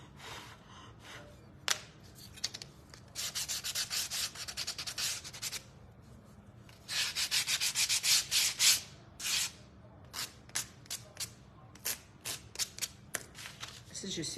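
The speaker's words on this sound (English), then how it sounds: "So I'm just gonna sand mine." Sandpaper rubbed over the edge of a painted wooden flamingo piece, quick scratchy back-and-forth strokes in bursts, close up, with brief talking in the background.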